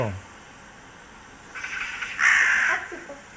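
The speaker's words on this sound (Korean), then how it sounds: "요거 까마귀예요, 까마귀." A crow caws twice in quick succession, harsh and fairly close, the second call louder, over a quiet background.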